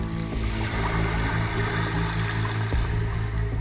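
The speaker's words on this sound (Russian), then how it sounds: "From periscope depth, the Magnitogorsk is climbing towards the surface." The Baltic Fleet submarine Magnitogorsk rises from periscope depth toward the surface, a loud, continuous rumble of machinery and rushing water filling the space without pause.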